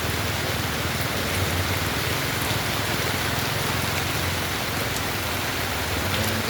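Heavy rain pours down steadily at a night market stall, a loud dense hiss of drops drumming on surfaces with no pauses and no talking.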